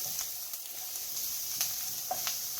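Extra virgin olive oil sizzling in a pot, a continuous close hiss with scattered sharp crackles and pops.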